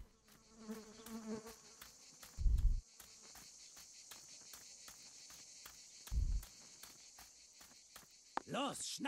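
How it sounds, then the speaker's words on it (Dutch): Flies buzz around in Martha Is Dead, a thin, persistent whine layered with repeated footstep-like thumps and a couple of heavy low knocks, with voices breaking in toward the end. "die vliegen wie je hier allemaal hoort"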